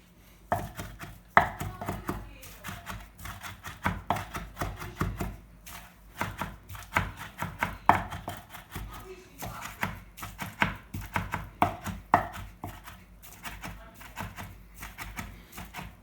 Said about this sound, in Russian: Рубим бекон. Тоже мелко.